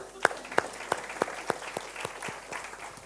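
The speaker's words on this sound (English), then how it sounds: "Hey, Vuiswa, just clap hands for them." A handful of people clap at a public lecture on artificial intelligence and UN sustainability, about a dozen distinct, fairly quiet claps in an uneven rhythm that thin out toward the end, with faint talk underneath.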